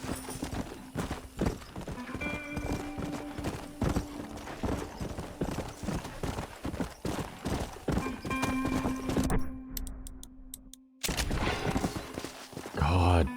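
Horse galloping in Red Dead Redemption, rapid rhythmic hoofbeats pounding throughout with a whinny, scattered gunshot-like cracks and a brief dropout near the end, game music and voice faintly underneath.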